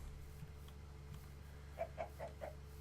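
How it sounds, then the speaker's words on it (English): A Minecraft chicken clucks four short times in quick succession, quiet and close over a low steady background hum. "Hello there, Mr. Chicken."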